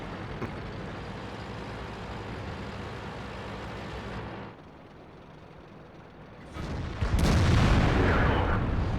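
A tank in World of Tanks rumbling along, its engine drone dropping briefly before a loud, heavy cannon blast near the end booms and lingers.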